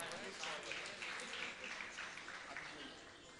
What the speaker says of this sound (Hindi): ताली बजाकर इनका सम्मान करें।